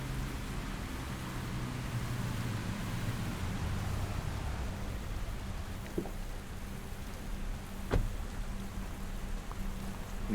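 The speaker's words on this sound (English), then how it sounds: "You can actually hear the rain hitting." Steady rain hisses evenly throughout in the video game Port Logistics Simulator, with a couple of faint taps or knocks near the end and no talking.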